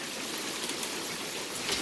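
Quarter-sized hail falling at night, a dense steady hiss of pelting impacts with no voices, one faint sharper tick standing out briefly.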